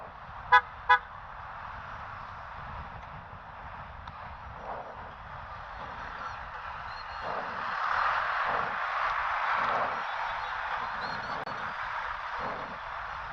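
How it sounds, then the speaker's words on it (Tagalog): Two sharp car horn toots ring out near the start over steady road traffic and a running motorbike engine on a ride through Guiguinto, Bulacan, with engine noise swelling later as vehicles pass. "Traffic dito, traffic."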